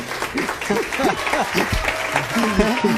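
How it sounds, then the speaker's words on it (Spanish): A theater audience at a live interview show applauds steadily, and a voice speaks over the dense, continuous clapping. "Más fuerte el aplauso"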